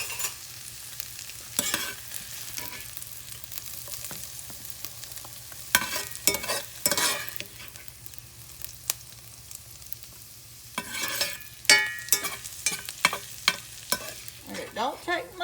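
Onions fry in butter for a tomato pie, a low constant sizzle broken by loud bursts of spoon scraping and stirring in the pan, close up with no voices.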